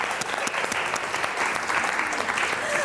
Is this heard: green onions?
no